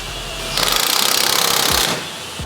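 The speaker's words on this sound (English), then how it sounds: "we're throwing the bearing on using the 4 provided bolts, installed from the back. So we'll tighten that up." A power tool briefly whirs and rattles as it tightens bearing bolts on a Nissan 350z, one loud, close burst of just over a second.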